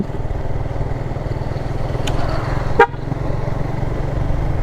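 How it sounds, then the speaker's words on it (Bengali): A short, sharp horn beep, an added horn fitted to a higher-cc motorcycle, sounds once over the steady rumble of the running motorbike engine and road noise. "এটাতে হর্ন লাগাইছে দেখেন পপ"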